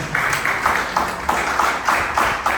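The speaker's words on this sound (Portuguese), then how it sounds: "Você pode aplaudir o Senhor fortemente." A church congregation claps together in a steady rhythmic beat, the applause moderately loud and evenly spaced with a roomy sound.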